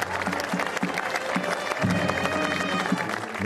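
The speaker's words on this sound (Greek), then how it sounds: "Ένα ζεστό χειροκρότημα για τον γίγαντα του ελληνικού αθλητισμού." Crowd of mourners applauding at a funeral for a Greek sports figure in Thessaloniki, steady dense clapping throughout, fairly distant and sustained, with faint voices mixed in.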